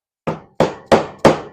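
Four sharp metallic strikes as a hammer drives a small pry bar into a gap between deck boards, evenly spaced about a third of a second apart, close and loud, each ringing briefly before the next.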